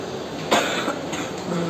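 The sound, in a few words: coughing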